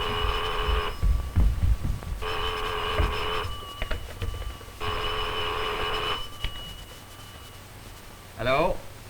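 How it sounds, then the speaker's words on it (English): An old telephone bell ringing in a garage, three long loud rings with even pauses between them, followed by faint room noise and a short voice at the end. "There's the phone."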